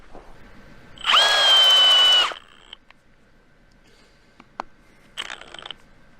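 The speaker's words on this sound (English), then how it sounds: "So now we're ready to actually drill through the posts." A cordless drill whirs loudly for about a second, then stops; after a pause, a shorter, weaker burst of drilling into a frozen post follows with a few small clicks as the battery runs down.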